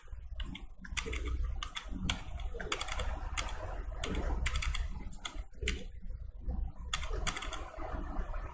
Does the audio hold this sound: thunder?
no